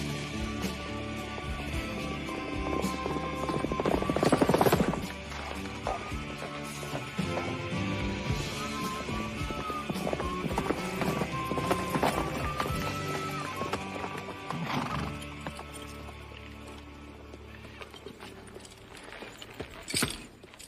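Horses gallop along steadily at a fast pace, hooves thudding over a rumbling background, with a horse whinnying partway through, in a classic Western film.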